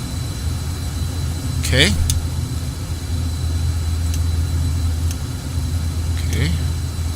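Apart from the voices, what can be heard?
Learjet 35 jet engine running in Microsoft Flight Simulator X video game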